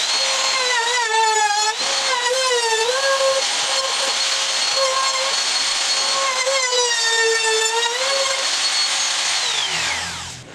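A router cuts wood for a fish tank stand, its loud, high motor whine running close and steady for about ten seconds, pitch dipping and rising as the bit bites into the timber, before spinning down at the end.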